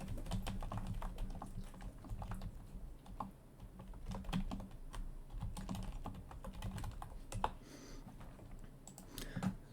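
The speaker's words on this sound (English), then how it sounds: "I need to make sure to cut those little parts out where I'm just typing things" Fingers tap out irregular runs of quiet keystrokes on a computer keyboard, faint and close, with scattered sharper clicks and no talking.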